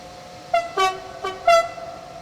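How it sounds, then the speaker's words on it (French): A German locomotive in a train video game sounds its horn in four short, loud toots with a bright two-tone pitch, the middle blasts a touch longer and the rest quieter, with no talk over them. "Oh, c'est génial comme klaxon, bordel."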